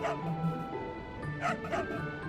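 Small dog in the Trials of Mana game giving a few short yips and barks over game music, with a person talking over it.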